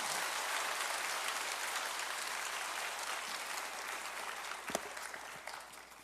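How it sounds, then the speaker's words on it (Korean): A church congregation at a lay spiritual retreat applauds in a dense, steady roar of clapping that slowly fades toward the end, with a couple of soft thumps near the close. "다시 한번 큰 박수 부탁드리겠습니다"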